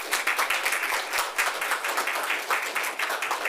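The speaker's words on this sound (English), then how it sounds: "Please give Jean from the League of Women Voters a warm round of applause." At a candidate forum hosted by a chamber of commerce, an audience gives a warm round of applause: a close, steady patter of many hands clapping without pause.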